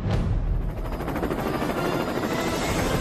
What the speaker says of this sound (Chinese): 我们已经听见远处有马达的声音，